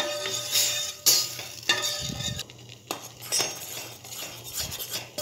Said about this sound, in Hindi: हमने इसमें दूध ऐड कर दिया है और इसे कंटिन्यू चलाएंगे ताकि इसमें लम्स ना बने